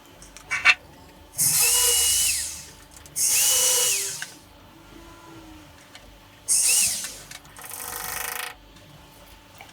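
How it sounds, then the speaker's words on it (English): A power drill whirs into a bathroom wall in several short bursts, each a few seconds long with pauses between, close and loud, with faint clatter at the start. "So a lot of drilling works."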